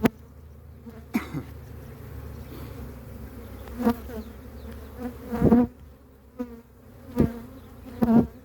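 A steady drone of many honeybees hums close by at an open hive during transfer to a new hive, with individual insects buzzing louder as they pass near.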